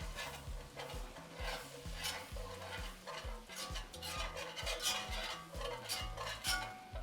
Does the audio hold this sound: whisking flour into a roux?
yes